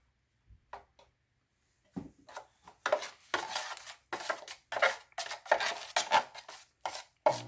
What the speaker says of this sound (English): Mix it up. And we're moving it back and forth so to get any of the chunks out.